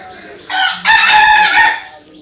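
Chickens on a poultry farm with a rooster crowing loudly and close by, one drawn-out crow of about a second and a half, with faint clucking before and after it.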